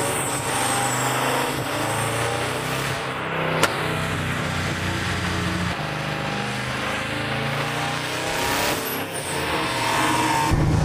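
An LS V8 engine swapped into a Lamborghini Huracan roars loudly and continuously on a dyno, holding a hard, steady pull with shifting pitch and no voices.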